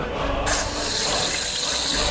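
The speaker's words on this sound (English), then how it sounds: "There's a lot of water flowing." A loud, steady rush of water gushing and spraying at full force, a broad hissing roar that swells after a moment and continues without pause.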